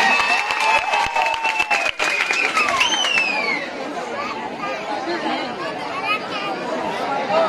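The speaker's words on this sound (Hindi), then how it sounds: "जोरदार ताली दो सुरेश लागी" Applause and crowd chatter fill an outdoor dance show stage, a steady wash of clapping and voices with whistle-like tones early on, loud and continuous throughout.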